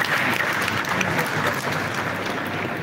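An audience applauds after a speech at an export expo mart in Bhadohi, a dense, continuous wash of clapping that holds steady and loud from start to finish.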